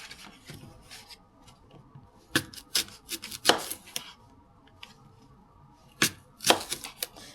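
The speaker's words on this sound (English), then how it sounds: "cut up my apple" Knife slicing through an apple on a cutting board during breakfast prep: quiet scraping, then sharp crisp chops in small clusters, each cut distinct and close.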